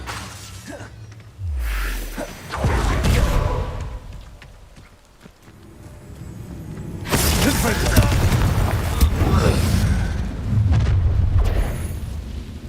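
Fiery spell explosions burst in Hogwarts Legacy combat, a deep boom near the start and a longer, loud rumbling blast in the second half, with a voice calling out over the action.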